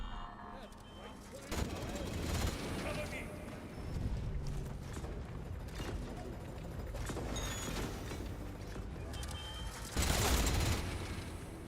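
An enemy in Atomfall fires bursts of gunshots, some sharp and near and others more distant, over game ambience with someone talking.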